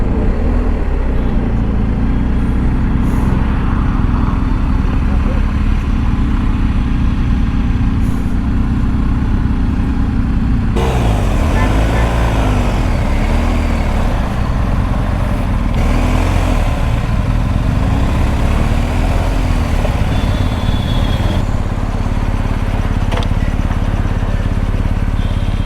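Steady roar of a BMW 1250 GSA motorcycle riding on the road, loud continuous engine drone and wind noise throughout, with a brief shift in tone partway through and no talking.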